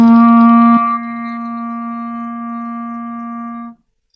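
Low C on a reed instrument played as a subtone, with the tongue tip resting on the reed edge to interrupt it: one steady, soft, breathy sustained tone lasting several seconds, close and alone, then stopping cleanly.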